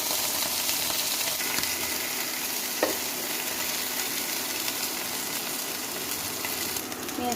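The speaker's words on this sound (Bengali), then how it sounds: "পেঁয়াজটা একটু ভাজা ভাজা হয়ে গেছে" Chopped onions fry in hot oil in a home kitchen pan, giving a steady, close sizzling crackle that holds evenly throughout, with a brief clink near the middle and no talking.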